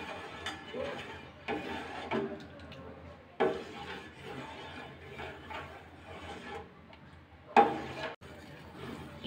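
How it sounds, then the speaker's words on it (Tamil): A spoon scrapes and stirs sago payasam inside a pot in intermittent strokes, with occasional sharper knocks against the side and a faint simmer between. "மிக்ஸ் பண்ணி விடலாம்."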